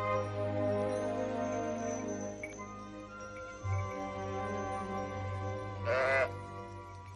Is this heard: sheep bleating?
yes